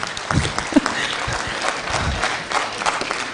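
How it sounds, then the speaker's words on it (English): A crowd at a live political rally in Kenya claps for a dignitary, a dense, moderately loud patter of many hands without breaks. "Can we give His Excellency a round of applause?"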